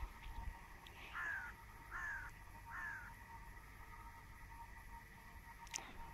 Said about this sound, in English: Apparently that crow behind me agrees.